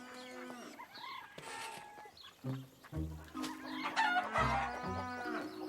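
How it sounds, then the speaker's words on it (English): Several chickens cluck and squawk close by in overlapping bursts, with a rooster crowing among them, in a cartoon. "I guess Gilbert isn't as pushy as a bunch of hungry chickens."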